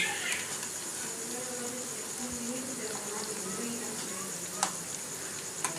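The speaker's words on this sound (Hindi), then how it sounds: "ज़बरदस्त किस्म के बटरफ्लाई जो है ना हमारे फ्राई हो रहे हैं" Chicken butterflies frying in hot oil give a soft, steady sizzle with faint crackles and a couple of small pops, heard from close by at low volume.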